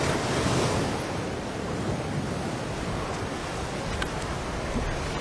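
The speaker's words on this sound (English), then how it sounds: "Wind this morning, it's beautiful." Steady wind rushing past the microphone by the sea at Sugar Bay, with waves and surf washing continuously underneath, loud and unbroken throughout.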